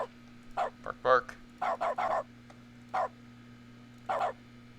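A voice imitates a dog, giving a handful of short, separate bark-like yelps in an uneven rhythm over a steady low background hum.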